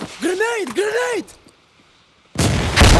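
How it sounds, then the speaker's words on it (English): Grenade blast in Insurgency: Sandstorm gameplay, a sudden loud broadband burst arriving after a shouted voice and a brief lull, with the rumble lingering to the end. "Grenade!"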